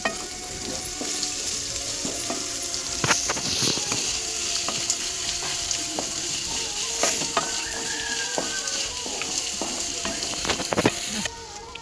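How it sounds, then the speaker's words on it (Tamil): Onions frying in a pan until brownish for egg rice, a continuous loud crackling sizzle close up, broken by clicking, ratchet-like scrapes of a stirring utensil against the pan, with no talking. "வெங்காயம் நல்லா ஃப்ரை ஆகுற லெவலுக்கு நம்ம வந்து ஃப்ரை பண்ணிக்க போகிறோம்."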